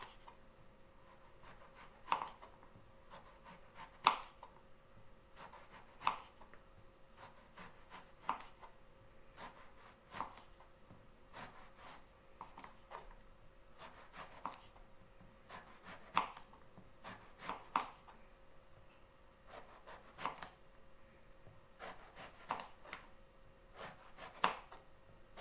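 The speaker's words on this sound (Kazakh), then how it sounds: "Ең бірінші біз баялыны алып, тазалап жуып, дөңгелек қылып турап шығамыз." Eggplant sliced into thin rounds on a cutting board, a quiet, fairly regular series of knife taps roughly every second or two, close but faint, with no talking.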